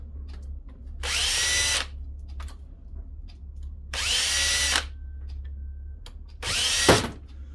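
A power drill backs out three screws holding the motor inside a paper shredder during a teardown, with three separate whirring bursts of about a second each, close and clear between quiet gaps.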